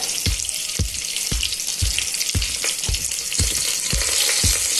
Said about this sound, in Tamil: ஒரு பச்சை மிளகாய் கீரி இப்படி போட்டுக்கோங்க. கருவேப்பிலை கொஞ்சம் போட்டுக்கோங்க.